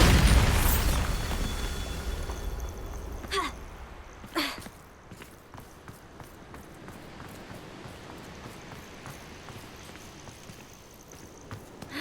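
A Bombarda spell explosion in the video game Hogwarts Legacy: a loud booming burst that decays into a rumbling tail, followed by a few sharper pops and crackles over quiet ambience.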